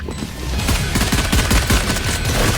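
Rapid bursts of gunfire in the game Valorant, dense overlapping shots rattling continuously and loudly for a couple of seconds.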